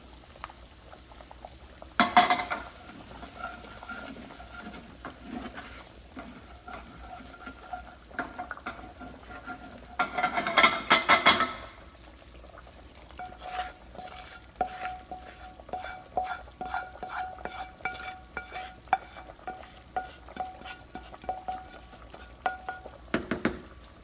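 Liquid poured into a hot pan for sopa de fideo hisses in sharp sizzling bursts, then settles into bubbling and boiling with scattered stirring clinks and scrapes, close up and without talk.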